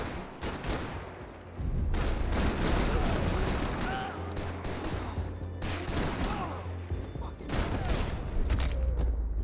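Sustained gunfire from the video game Max Payne 3, dense bursts of shots and booms running almost the whole time, loud and close, with scattered game sounds mixed in.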